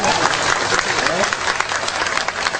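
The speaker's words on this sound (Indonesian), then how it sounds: "Sik, tepuk tangan." Audience at a large Islamic gathering breaks into applause, a loose, uneven clatter of many hands with crowd murmur and some voices mixed in underneath.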